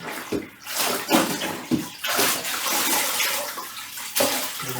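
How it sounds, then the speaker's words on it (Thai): A cheap 99-baht spin-dry mop spinning in its bucket, a steady whirring rush of water flung off the mop head, loud and close, swelling in surges across the clip with no talking. "เดี๋ยวผมปั่นให้ดู"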